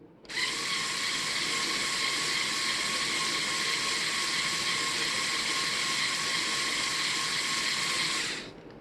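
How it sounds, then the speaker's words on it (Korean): A small electric motor in a Mould King 13124D Jeep Wrangler RC model, in low third gear, starts up and whirs at a constant high pitch for about eight seconds before stopping sharply. "자, 저속 3단입니다."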